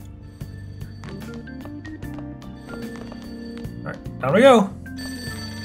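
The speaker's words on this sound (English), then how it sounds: "That ringing sound isn't coming from my cell phone." An in-game telephone rings downstairs in Persona 5 Royal, its repeated electronic bell sounding over soft game music while someone talks.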